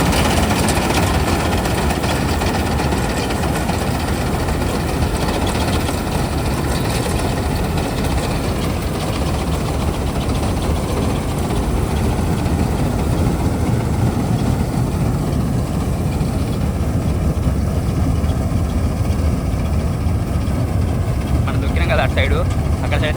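A combine harvester working a paddy field, its engine holding a steady, loud, low droning hum close by for the whole stretch without a break.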